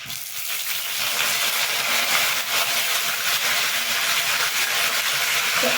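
Curry leaves frying in hot oil with garlic for a simple tomato gojju, giving a steady, close sizzle and hiss that holds at an even level throughout with no talking.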